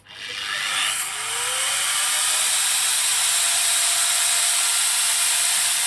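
A soft-start angle grinder switches on and winds up slowly, its whine rising steadily in pitch before settling into a loud, continuous high-speed hiss and hum, close and alone.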